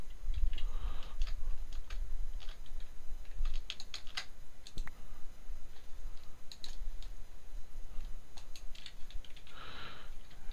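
Rapid keyboard tapping and mouse clicks come in irregular bursts throughout a Minecraft-style modded game session, close and fairly loud over a faint steady hum, with no talking.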